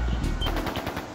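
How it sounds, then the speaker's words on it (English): Rapid automatic gunfire from a battle deeper inside a Jaeger Corps area in the video game Trails of Cold Steel III, a dense, loud run of shots rattling steadily for about a second with no talk. "That sound! Gunfire from deeper in!"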